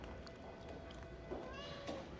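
A cat meows a few times, faint and brief, over quiet background sound from a drama episode.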